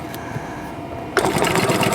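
Sewing machine stitching a quilt seam, a steady mechanical whir that starts abruptly partway through after a quieter stretch and runs on loudly to the end.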